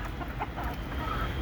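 Desi chickens cluck softly at a backyard poultry setup, with short low calls scattered over a steady background hum and no clear speech.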